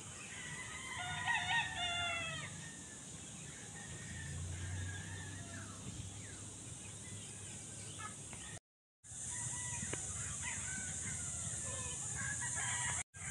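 Roosters crow and hens cluck among chicks at a game fowl farm, the crowing loud and repeated near the start over a steady barnyard din, then mixed calls continuing after a brief gap.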